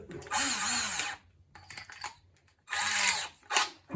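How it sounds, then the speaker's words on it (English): A small power drill bores a hole in the center of a piece of wood for a mousetrap build, in a few whining bursts separated by short pauses, close and fairly loud, with no talk. "you just want a piece of wood and a little drill"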